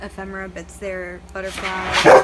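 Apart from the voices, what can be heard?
dog barking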